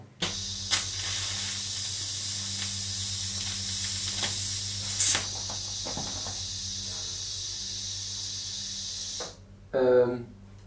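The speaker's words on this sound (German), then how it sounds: "Wir schweißen mit 65 äh, Ampere, da kommt jetzt richtig Dampf raus, das geht sehr schnell." Electric welding at 65 amps while building a DIY electric kick scooter, a loud steady hiss and crackle with steam venting, running for about nine seconds before cutting off, followed by a brief burst of voice.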